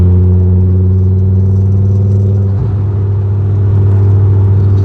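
A Ford Focus RS/ST engine drones loudly and steadily from close by as the car rolls downhill, with turbo whoosh and exhaust note. The pitch dips and shifts briefly midway, then settles back into a steady hum.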